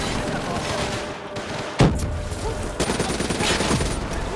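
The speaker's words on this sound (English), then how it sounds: "We got an MG in that brick building! Take it out, boys!" Machine gun fire in the video game Call of Duty Black Ops 3: loud bursts of rapid gunfire with a sharp impact, set under shouting soldiers amid dense battlefield noise.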